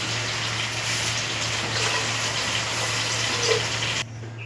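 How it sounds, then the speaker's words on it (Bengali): Hot water gushes steadily into a pressure cooker during home mutton cooking, making a continuous rushing splash under a low hum that cuts off near the end. "কুকারের মধ্যে গরম জল বসিয়ে দেবো"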